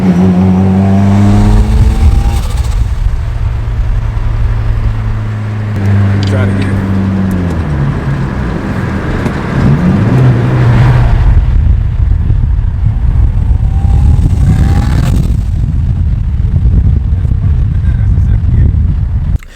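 A turbocharged Mitsubishi 4G64 car engine revs hard at full throttle, its pitch climbing repeatedly through the gears, loud and close, with a voice speaking briefly over it.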